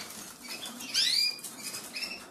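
A white-black jasper canary, readied for a show, flutters its wings in a cage, producing a brief close burst of flapping and light pattering, with a few faint chirps and cage rustles around it.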